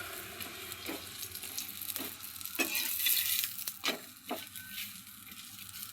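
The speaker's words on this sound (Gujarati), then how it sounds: "અમે અહીંયા ઘીથી શેકી રહી છું. તો ઘી નાખી અને આવી રીતે સરસ શેકી દેવાના છે." Aloo paratha roasting in ghee on a hot pan gives a steady sizzle, with several sharp spatula scrapes and taps over the frying hiss, close up and with no talking.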